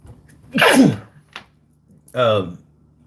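Two sneezes, one sharp and then a second close behind it, loud and near with a short pause between, over faint room hum.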